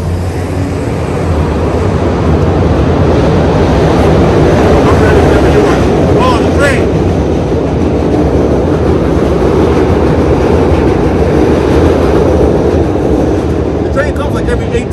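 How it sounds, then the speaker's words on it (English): A train rushes past close by in Chicago, a loud, steady broadband roar and rumble lasting throughout with no voices. "The train comes like every 18 seconds."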